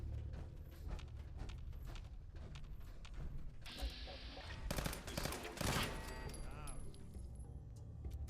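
Bursts of gunfire in the Fallout 4 video game, with several sharp shots and short volleys breaking through steady background game sound while a person talks over the action.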